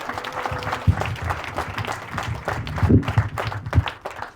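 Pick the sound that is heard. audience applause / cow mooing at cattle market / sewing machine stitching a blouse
audience applause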